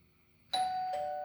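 A two-tone doorbell chime rings out clearly, a bright ding followed by a lower dong, ringing on against a quiet background.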